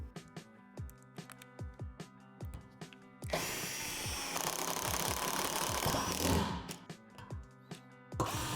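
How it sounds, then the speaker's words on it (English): A power driver sinks self-tapping screws through metal deck panels on a swing set. Sharp clicks and taps give way to a loud, sustained whirring drive lasting several seconds, then more clicking handling noises. "Secure the deck panels with the self-tapping screws through the divots that we drilled out."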